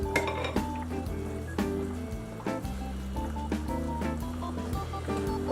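A metal lid clinks onto a pot of simmering red beans, several sharp clanks and rattles at the start, then softer tapping over a steady background with music playing.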